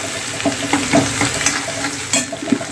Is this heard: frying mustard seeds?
yes